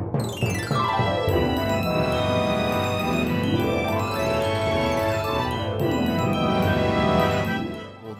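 Classic theme music of The Skeptic Zone podcast plays loud and continuous, a full, dense band sound with sweeping rising and falling tones layered over a sustained bed.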